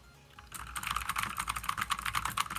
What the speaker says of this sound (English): Dave, type on your keyboard real quick